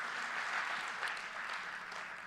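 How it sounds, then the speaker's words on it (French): Church congregation applauding to honor new converts, a steady wash of many hands clapping together, moderately distant and even throughout. "on peut juste donner une main d'applaudissement pour les âmes qui sont venues au Seigneur"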